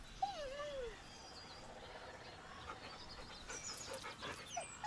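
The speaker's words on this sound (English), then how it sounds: "I don't know what the deal with the dog is." A dog in the video game Baldur's Gate 3 pants softly and lets out a thin, rising-and-falling whine early on, faint and nearby against a low game ambience with scattered chirps.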